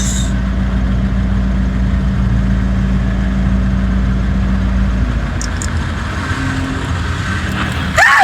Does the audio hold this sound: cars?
yes